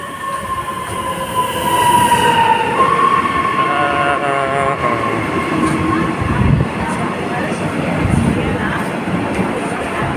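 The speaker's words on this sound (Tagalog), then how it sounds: "ayan o, parating na yung train." A train pulls into the Rosh HaAyin station platform in Israel, with a steady rolling rumble and high, drawn-out wheel squeals that rise and fade. A person talks intermittently over the approach.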